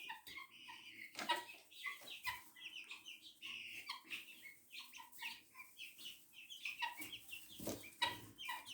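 Helmeted guinea fowl, white-breasted, call repeatedly in harsh, chattering bursts, several birds overlapping at a moderate distance over a low background hum.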